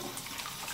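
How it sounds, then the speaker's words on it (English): Tap water runs briefly and faintly while rice is rinsed in a kitchen, a soft splashing hiss. "I'm just going to rinse my rice."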